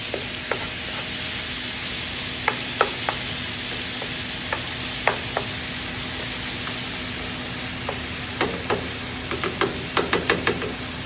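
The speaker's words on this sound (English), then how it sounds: "And now I just added the beef." Ground beef sizzles steadily in a hot pan, with a constant frying hiss and occasional clinks of a utensil scraping and stirring, growing busier toward the end.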